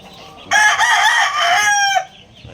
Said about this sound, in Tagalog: Ayan mga manok ng mga idol.